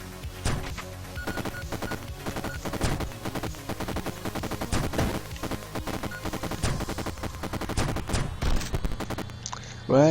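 Rapid, repeated shotgun blasts in the video game Neurovoider, sharp close reports firing in quick succession with little pause, over a low game background hum.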